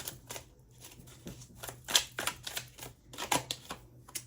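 Tarot cards shuffled by hand, a run of crisp riffling bursts and soft slaps repeating irregularly, close and fairly quiet, with no talking.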